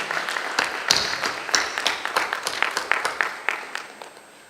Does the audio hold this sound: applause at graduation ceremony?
yes